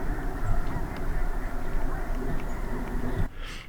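Geese or ducks honk and call outdoors in winter against a steady rumbling, wind-like background, with a brief quieter break near the end.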